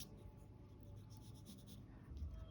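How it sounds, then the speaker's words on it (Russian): Wax crayons scratch and rub across paper in a soft, steady stroking texture, faint and close, with no voices over it. "Я взяла восковые карандаши, не знаю, что из этого получится."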